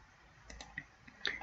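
Computer mouse clicks during a PowerPoint screen recording, a few faint, brief clicks scattered over a quiet background.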